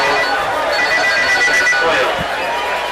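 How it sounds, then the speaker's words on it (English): A telephone rings amid the noise of a crowd at a 2003 regular-season high school football game between LC and Athens Academy, its repeated tones partly masked by steady crowd chatter. "Somebody's phone's ringing, Chuck."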